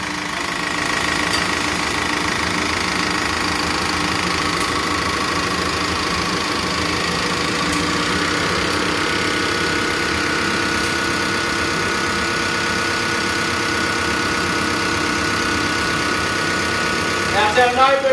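Toyota 1KZ diesel engine with a mechanical injection pump and no turbo boost, droning loudly and steadily under load, rising briefly at the end, with voices heard over it.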